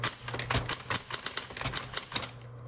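Typing on a 1960s Smith Corona Coronet Automatic 12 typewriter: a quick run of about fifteen crisp, close key strikes in an uneven rhythm over a faint steady motor hum, ending in a short quiet stretch.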